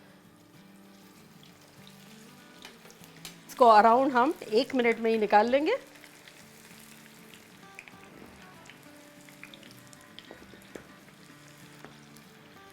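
Battered cauliflower Manchurian pieces fry in hot oil for crisping, a faint steady sizzle that runs throughout, with a short stretch of talk in the middle.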